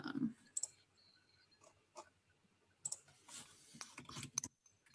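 Several crisp computer mouse clicks, spaced irregularly over a few seconds, with faint background noise between them.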